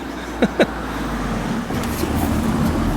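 Cars pass along a narrow road while someone walks beside them on Christmas Day. Close traffic makes a steady rumble with a swelling whoosh, and a couple of short higher tones come early on.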